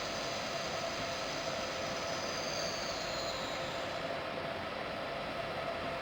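Train reversing slowly in Train Simulator 2020, a steady loud rumble of rolling stock with a faint high wheel squeal sliding down in pitch, continuous and without speech.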